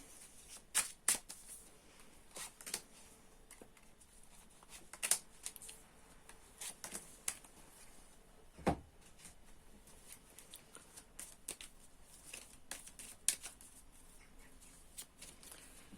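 Sporadic crisp snaps and rustles of Lenormand fortune-telling cards being handled and shuffled up close, with quiet pauses between bursts and one louder flick midway.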